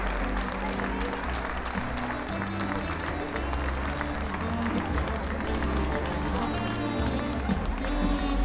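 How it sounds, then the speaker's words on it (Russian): Sustained loud applause from a large crowd at a ballroom dance championship final in Minsk, dense and steady throughout, with rhythmic low thumps underneath. "Аплодисменты."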